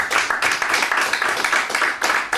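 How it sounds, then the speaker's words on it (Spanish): A church congregation claps in unison, a brisk, steady burst of applause filling the room for a couple of seconds. "Le damos un fuerte aplauso al Señor."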